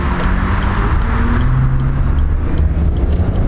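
An older car accelerates along a road, its engine a steady, loud drone that holds through the whole stretch with road and wind noise mixed in, heard from inside or close by.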